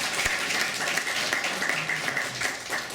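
A crowd at a 2011 event in Armenia honouring the Kalantarian family applauds, a dense, steady wash of clapping from many hands that holds evenly for a few seconds without pause.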